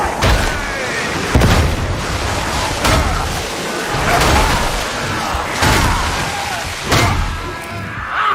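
A grenade goes off in a Warhammer video game, giving several heavy booms and thuds spaced a second or so apart amid battle noise, with voices speaking over the action.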